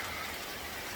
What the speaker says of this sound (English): torrential downpour just happened as soon as I came over here